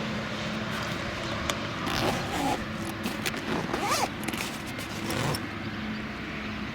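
Zipper on a small pouch of motorcycle luggage being pulled, a few short rasping strokes close by over a steady low background hum.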